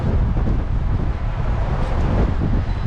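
Strong wind buffets an exposed cliff top during a coastal hike, a loud continuous low roar with gusty rumbling that fills the whole moment, with no one talking.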